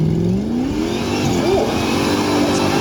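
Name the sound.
Jeep V8 engine revving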